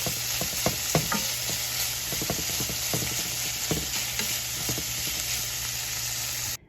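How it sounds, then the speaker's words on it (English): Bacon strips browning in a pan, a loud, steady crackling sizzle with scattered sharp pops and spits throughout, close up, ending abruptly, no speech. "now we just got to brown some bacon"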